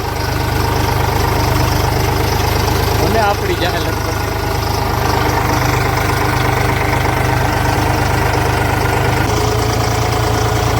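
A tractor engine idles with a loud, steady low rumble and mechanical knock throughout, while someone talks over it close by.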